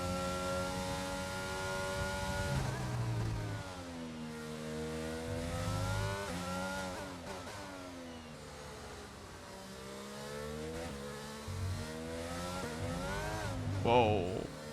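A Formula 1 car in the racing game F1 22 revs and accelerates through the gears, its engine pitch repeatedly climbing and dropping, while someone talks over it.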